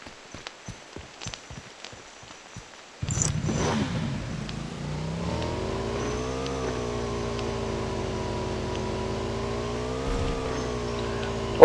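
A motorcycle engine in the PUBG Mobile video game starts after some footstep-like taps and then runs with a steady, sustained revving drone, fairly close and loud.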